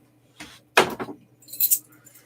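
A bunch of keys jangles and clinks as it is handled up close, in a few short bursts with a brighter rattle near the end.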